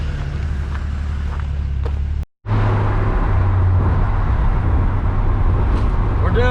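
A revived 1971 Ford Maverick engine drones steadily while the car is driven on the road, with loud, dense road and cabin noise. The sound cuts out briefly once partway through.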